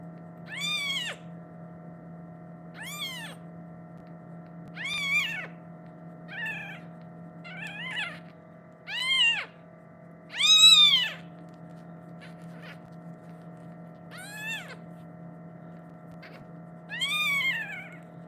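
Newborn kittens give repeated thin, high meows, about a dozen short cries spaced a second or two apart, over a steady low hum in the room.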